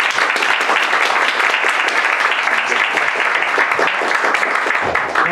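An audience fills a lecture hall with loud, dense applause that holds steady and unbroken, a thick wash of many hands clapping together before a speaker begins.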